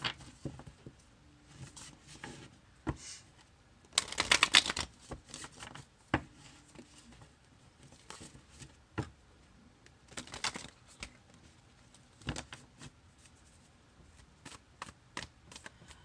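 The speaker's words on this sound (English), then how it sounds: "If I can shuffle right." Tarot cards are shuffled quietly in irregular bursts of soft riffling and tapping, with pauses between, close by and without talk.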